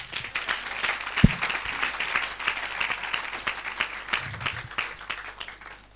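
Church congregation breaking into applause and cheering for Jesus during an evangelist's sermon, a steady crowd of many hands clapping throughout with a brief thump near the start.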